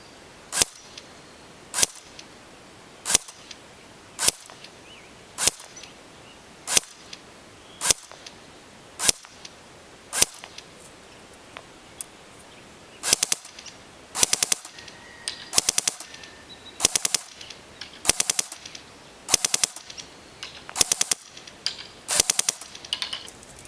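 A Cybergun M14 Socom airsoft electric rifle fires at a target 150 feet away: sharp, evenly spaced single shots, about one per second, that later come in quicker doubled bursts. The shots are crisp and close against a quiet background with no talking.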